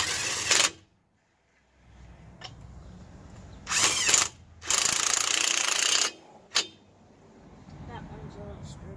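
Ratchet snugging wheel lug nuts during a brake change, heard as several short bursts of rapid clicking separated by pauses, with background noise between them.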